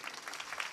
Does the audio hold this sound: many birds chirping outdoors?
no